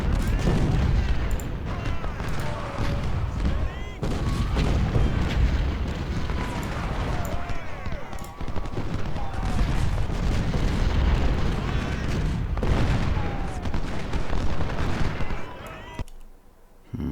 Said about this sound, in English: So the howitzers will open up on the skirmishers,